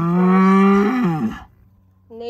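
A cow lowing on a farm, one loud drawn-out moo close by that bends downward and breaks off, then a brief silence before a second call starts at the end.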